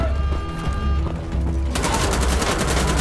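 Heavy weapon fire in Wolfenstein: The Old Blood, first as a rapid burst under a low rumble, then a dense, loud volley of rapid shots filling the final second and a half.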